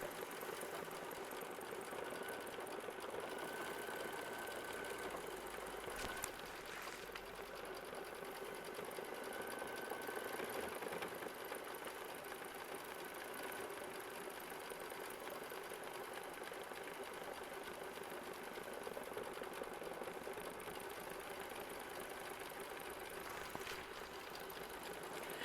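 A quilting sewing machine embroiders a butterfly silhouette on a quilt, giving a steady, fairly quiet mechanical whir and rapid needle chatter that runs without a break, with a couple of brief clicks along the way.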